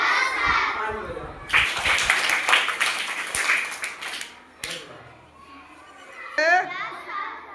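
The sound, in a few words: children clapping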